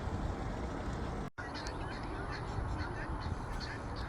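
Guinea fowl calling at a small zoo, a noisy, continuous chorus of harsh squawking and honking cries at middle distance over steady background noise, with no voices.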